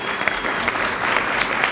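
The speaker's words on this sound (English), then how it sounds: "Give her a round of applause" A breakfast event audience gives a steady round of applause, dense sustained clapping from many hands, fairly loud and close, with no speech over it.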